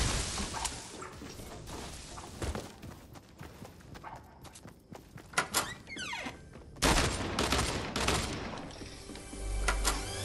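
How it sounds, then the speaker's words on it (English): Gunfire in the Fortnite video game comes as scattered sharp cracks and short bursts mixed with other game effects, fairly faint overall, with a louder cluster near the end. "Is that you shooting?"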